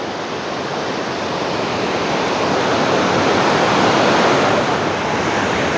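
River water at Courtallam rushes around a lone tree in a loud, steady roar. It is continuous and close, with no voices.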